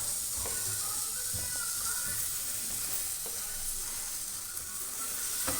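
Chopped tomato going into spices sizzling in a pan for a capsicum curry, a soft steady sizzle and hiss with a few stirring knocks, quiet and close.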